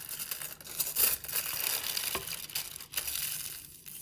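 Paper packet holding crayon shavings being folded up by hand, soft crinkling and rustling close by, with a few brief louder creases and scrapes spread irregularly over a quiet background.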